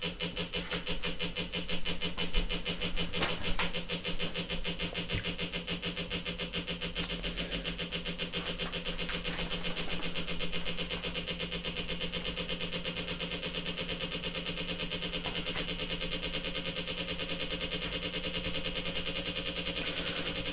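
A wheel driven by a powered electric circuit whirs continuously, a steady mechanical hum with a dense rapid pulsing that holds fairly even throughout.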